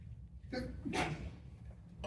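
A single short, soft sneeze, close by but quiet, standing alone against a low background hum.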